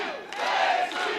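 Wrestling show crowd cheering and rallying behind a female wrestler, a loud collective roar with rising shouted cries that swells in the middle and stays strong to the end.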